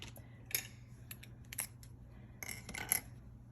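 Scissors snip a small paper clover punch-out for a stamped card craft: a few crisp, close cuts scattered across a few seconds over a quiet room hum.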